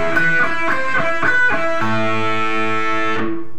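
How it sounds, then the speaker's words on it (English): An electric guitar with distortion plays a quick pedal-tone pattern in A, picked notes returning again and again to one repeated note before a final chord rings out and fades. "That's one example of a pedal tone."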